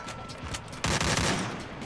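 Rapid bursts of gunfire from the video game Free Fire, a short loud volley erupting partway through after quieter shooting sounds, with dense overlapping shots.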